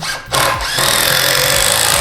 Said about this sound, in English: We love our power tools.